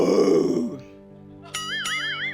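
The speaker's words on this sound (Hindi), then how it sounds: "ये मैंने जो लंच खाया उसकी डकार थी।" A single loud, rough belch after eating lunch, heard up close for nearly a second in a TV comedy show setting, followed by sustained musical tones.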